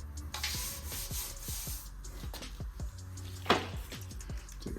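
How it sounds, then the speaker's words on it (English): A detail brush scrubs car wheel rims, rotors and calipers in quick repeated strokes, close and moderately loud, with a rasping, sandy texture and a sharper knock near the end. "Take a detail brush, get these rims, the rotors, the rims, all the little crevices, calipers"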